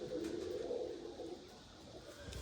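Pigeons coo softly and continuously, a faint low burbling murmur close by, with no voices over it.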